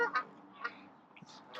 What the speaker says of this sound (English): Geese are noisy, aren't they?